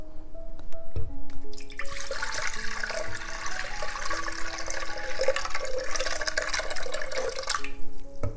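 Fermented rice water pours steadily and splashes into a container for several seconds, a continuous watery gush close by with a few clinks at the start.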